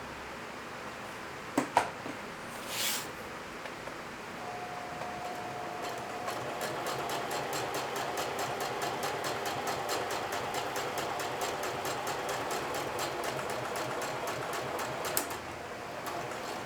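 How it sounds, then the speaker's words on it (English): A sewing machine top stitches along the top of a freshly pressed denim shield. A few clicks come first, then a steady, rapid, rhythmic whirr of stitching runs for about ten seconds. "we're going to do the top stitching along the top there"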